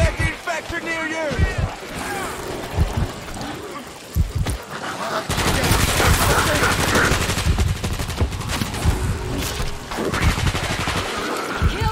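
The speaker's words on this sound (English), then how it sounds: "Machine gun defense is in place." A machine gun turret in the World War Z video game fires rapid sustained bursts, loud and close, the rattling fire swelling and holding through most of the stretch amid game effects, with a voice speaking briefly.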